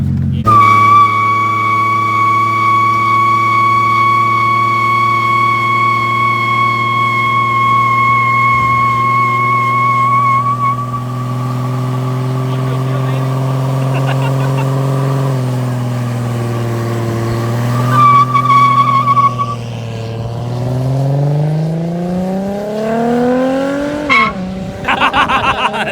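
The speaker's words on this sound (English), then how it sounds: "Ready to do a burnout?" A car with JDM parts does a long, loud burnout: the engine holds a steady high rev while the tires squeal continuously for over twenty seconds, then the pitch drops and rises as the revs change near the end.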